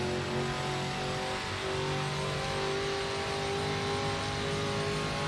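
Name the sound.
race car engine revving in Project Motor Racing video game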